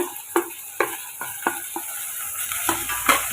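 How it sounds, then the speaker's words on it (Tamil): Curry leaves sauté in a pan for egg rice, a steady hiss of frying under a string of spatula scrapes and knocks that recur about every half second, close and fairly loud. "கொஞ்சம் கருவேப்பிலை இப்போ இதை நம்ம வதக்கி விட்டுக்கலாம்"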